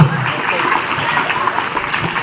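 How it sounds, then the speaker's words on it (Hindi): Small children clapping at a school Republic Day function, a steady dense patter of applause filling the whole stretch at moderate loudness, with some voices mixed in underneath. "तालियां, छोटे छोटे बच्चे तालियां"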